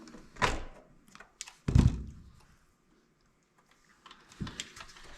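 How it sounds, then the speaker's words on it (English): The small plastic door on an Axial SCX10 III Jeep CJ7 scale RC model is handled and opened, producing a few close, sharp clicks and a louder snap, separated by quiet pauses. "I'm gonna go ahead and open the door on this one."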